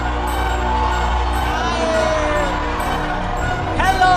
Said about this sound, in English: Let's get a big cheer, everyone!